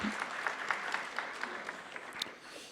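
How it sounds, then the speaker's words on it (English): Audience applause at a CannaGather NY social equity event, a fairly faint, sustained patter of many hands clapping, heard from some distance with no talk. "Round of applause."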